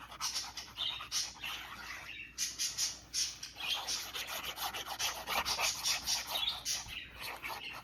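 Pet birds chatter indoors, a dense run of high chirps and scratchy squawks going on without pause at moderate level.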